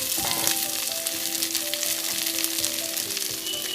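Sliced shallots hit hot oil already popping with mustard seeds, giving a bright, steady sizzle with scattered crackles and occasional faint clinks, close and alone with no voices.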